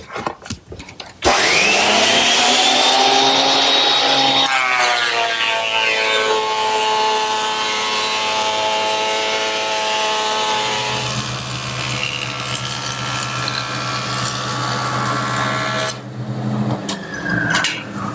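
A surface planer feeds a board through its cutter in a woodworking shop, with a dust chute carrying off the chips. It starts abruptly with a loud, steady roar and whine that holds close and unbroken to the end.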